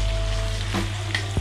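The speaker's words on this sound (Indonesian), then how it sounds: "ini daging sapinya udah aku potong sesuai selera. Kita masukin dulu, ya." Pieces of cut beef frying in a hot pan, a dense steady sizzle with a couple of brief clinks near the end, close and alone.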